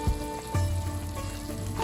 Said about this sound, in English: We are going to saute this for a minute on medium flame